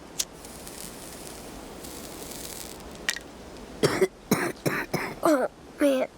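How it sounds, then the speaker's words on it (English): A game character in Captain Spirit breaks into a run of harsh coughs and throat-clearing after a cigarette puff, several close bursts following a quiet stretch. "One puff and he's gonna cough."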